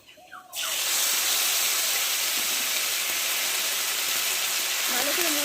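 Panch phoron and ground spice paste hit hot oil for a Bengali fish curry with potatoes, bursting into a loud, steady sizzle that holds for several seconds, with brief faint voice at the start.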